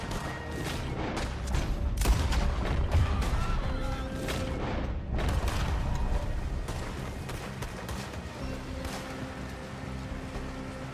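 Rapid gunfire in Red Dead Redemption 2, a steady run of sharp cracks and distant booms during a chase, with what sounds like hoofbeats underneath and no talking.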